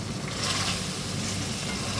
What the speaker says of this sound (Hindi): मिक्स कर देंगे